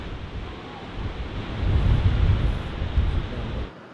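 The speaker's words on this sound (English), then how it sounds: "This is the first waterfall, right next to the airport." A loud, steady rush of a waterfall beside an airport in the Faroe Islands, with gusts of wind buffeting the microphone.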